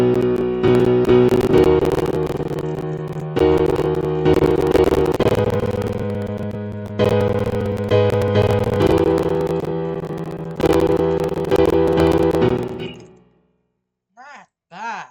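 Original piano patch in a music production track playing four rich sustained chord phrases that ring and fade, then stops. A few short, faint sounds follow in near silence.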